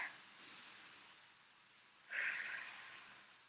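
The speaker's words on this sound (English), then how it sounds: "take a deep breath" A deep breath taken during a throat chakra EFT tapping session, with a soft inhale early on followed by a louder, fuller breath around the two-second mark, close and breathy.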